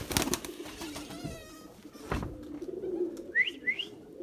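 Erzurum white pigeons give soft cooing, with a few flutters and a pair of short whistled chirps near the end, heard close up with faint background noise and no talk.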